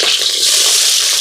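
Hot oil frying in a pan for chicken curry as green chillies go in, a loud steady sizzle with no pause and no talk.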